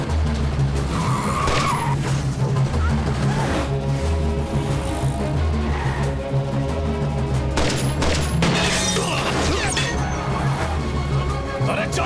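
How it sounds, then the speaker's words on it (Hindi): A car speeds off with tires skidding and squealing during an action chase scene, over a loud, steady engine roar and dramatic music, with brief crash-like hits and shouting voices. "ए कार्तिक, अरे पांचवें गियर में डाल कदे"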